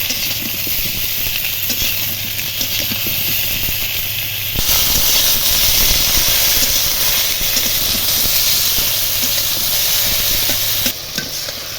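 Ridge gourd fries in a pan with a continuous loud sizzle and steamy hiss, stirred now and then with soft scraping, the sizzle surging louder partway through and dropping slightly near the end; no talking.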